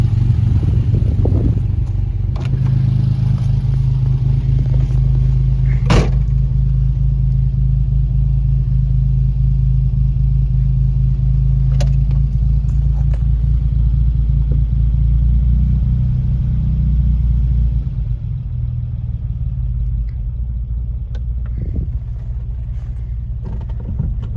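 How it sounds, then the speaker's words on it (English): A vintage Lancia Flaminia is driven on its first outing of the year, its engine giving a loud, steady low rumble from close inside the car, with a few brief clicks and a slight drop in intensity near the end. "first drive of the year in the Flaminia."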